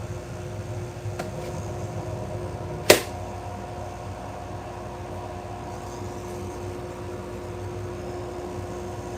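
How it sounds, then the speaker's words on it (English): Steady mechanical hum and whoosh from a dust collector running in a shear sharpening shop, constant at moderate level throughout with one sharp click partway through. "We're going to turn the dust collector on."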